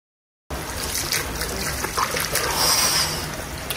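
Hot mineral spring water runs from the mountainside in Jermuk, a steady, close trickle and splash that begins after a moment of silence and continues unbroken without any voices.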